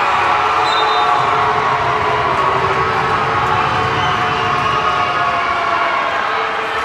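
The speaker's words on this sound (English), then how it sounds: "Half the crowd is ecstatic, half the crowd is furious." A basketball crowd at a senior women's cup final roars in a steady, loud wash of mixed cheers and jeers after a travel call, sustained throughout with no clear break.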